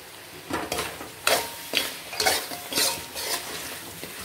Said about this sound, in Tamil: இந்த மசாலாவோடு இதை நல்லா சேர்த்து வதக்கணும்.